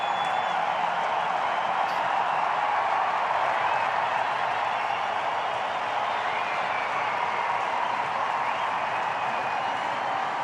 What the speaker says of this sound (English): Huge applause from the Indian fans all around the ground here at the Adelaide Oval